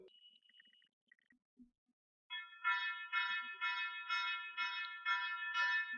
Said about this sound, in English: you will hear the sound from the Panda Alarm